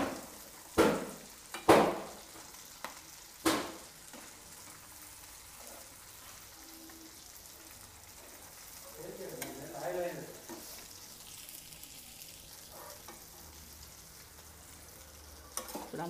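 Food frying in oil gives a quiet, continuous sizzle, opened by a few sharp knocks of a utensil against the pan, followed by a short busier stretch of stirring, with no voices.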